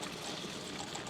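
Steady, soft rush of river water flowing alongside a rail trail in wintry conditions, a continuous broadband wash with no distinct splashes or voices.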